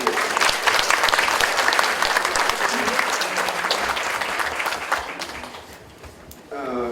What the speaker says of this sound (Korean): 뜨거운 박수를 좀 부탁드립니다